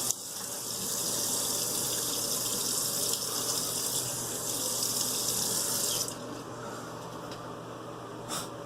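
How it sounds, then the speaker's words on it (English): A bathroom sink tap runs warm water during a wet shave, a steady close gush of water for about six seconds before it cuts off, leaving quieter drips and rinsing sounds. "Get the sink going. All that water's still warm."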